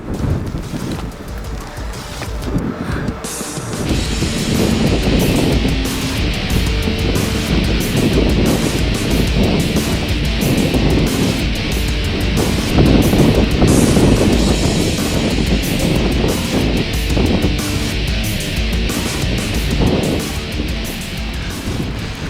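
Strong, gusty wind roars across an outdoor long-range shooting position on rocky ground, buffeting the microphone in a loud, continuous rush with no pauses.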